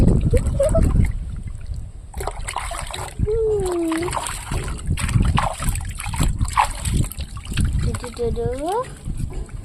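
Water splashes and sloshes in loud, irregular bursts as a small boy named Roshan is bathed. Close voices talk and exclaim throughout, with a child's rising squeals.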